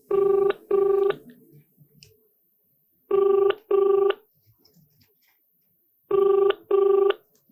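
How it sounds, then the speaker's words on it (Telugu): A telephone rings three times with no answer, each ring a pair of loud electronic trills separated by pauses of about two seconds, alone and without talk. "ఫోన్ చేశాను లేపట్లేరు"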